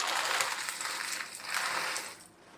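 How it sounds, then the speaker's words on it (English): Dry pasta poured into a pot of freshly boiled hot water in a kitchen in Italy, a close, dense rattling cascade lasting about two seconds before trailing off. "and then I pour in the pasta."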